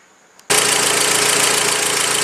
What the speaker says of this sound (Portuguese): Vamos entrar agora com o funcionamento do carro para ver o que acontece.